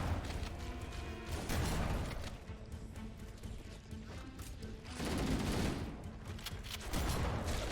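Rapid, dense automatic gunfire in the Halo video game while shooting enemies, loud and sustained with surging bursts and overlapping shots filling the whole stretch.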